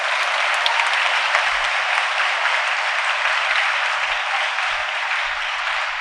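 A school audience at a Surendranagar gurukul event bursts into sustained, dense applause, a steady even roar of many hands clapping for several seconds.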